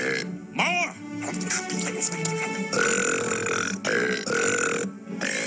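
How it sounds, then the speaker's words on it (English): King Julien, a cartoon lemur, lets out a long, loud, croaking burp, then more gurgling burps follow over background music, with a character shouting briefly in between. "Eat and burp"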